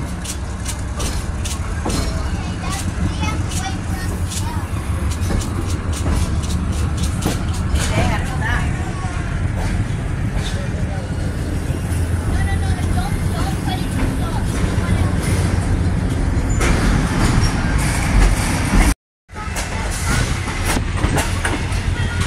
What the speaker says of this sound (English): We're taking off now. The train's moving.